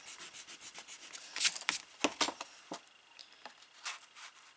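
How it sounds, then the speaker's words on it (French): An eraser rubs out pencil marks on paper while a Harry Potter pop-up card album is assembled, giving a series of quick, close, scratchy strokes in an irregular rhythm with no talking. "Je vais gommer ça."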